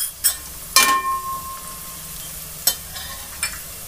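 Oil sizzles softly as cumin and whole spices fry with browned onions for Kashmiri matar pulao. Sharp clinks and scrapes of stirring come at intervals over the steady low frying hiss.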